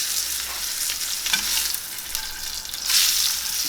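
A New York strip steak sizzles in a pan as its fat renders, a steady loud frying hiss up close with a few crackling surges.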